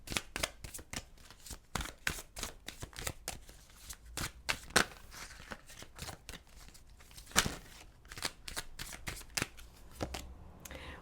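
Tarot cards shuffled by hand for a Gemini reading, a steady run of crisp papery riffles and slaps, close and fairly quiet, with brief pauses between bursts and no talk.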